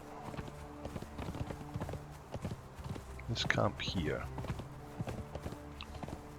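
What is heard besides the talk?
horse hooves clip-clopping in Conan Exiles video game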